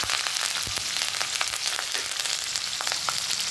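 Green chillies, freshly washed, frying in hot oil in a home kitchen pan, a steady dense sizzle with small crackling pops throughout, close and fairly loud, no talking.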